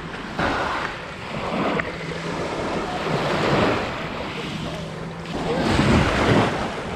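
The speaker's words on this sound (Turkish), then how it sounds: "Deniz güzel, temiz." Sea surf at a campsite beach in Kemer, Antalya, beside a broken-down pier, waves washing and breaking loudly and close in steady surges, heavy wind buffeting the microphone throughout, with no talking.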